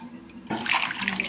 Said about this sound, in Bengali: এক এক করে সব আমি ধুয়ে নিচ্ছি।